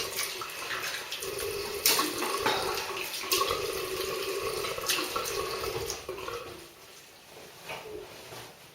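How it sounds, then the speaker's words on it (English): Water running from a tap into a sink while a face is rinsed after a wet shave, a steady close splashing wash with a few louder splashes, thinning out toward the end. "I'm just going to rinse my face now."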